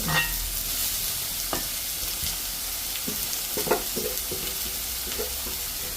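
Cumin, mustard seeds and grated coconut fry in oil in a pan, making a continuous moderate sizzle with a few scraping stirs and light crackles near the end.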